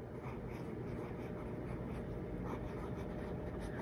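Soft continuous scratching of a Pelikan M200 extra fine fountain pen nib moving across paper, a faint, even drag close by with no one speaking.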